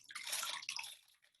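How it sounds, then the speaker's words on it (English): Water splashing and trickling into a small cup being tested for floating, a brief close wet rush that fades out within about a second. "oops, I got water in there."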